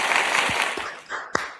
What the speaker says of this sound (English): I hate how there's applause.